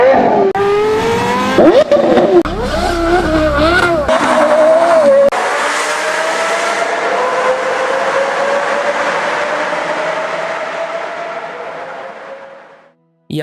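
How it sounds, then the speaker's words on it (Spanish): Naturally aspirated V10 of a road car screaming through rising revs and gear changes, then a long sustained high-pitched wail that fades out, loud and close with no talk. "un V10 atmosférico que todavía hoy muchísimas personas consideran como uno de los mejores sonidos"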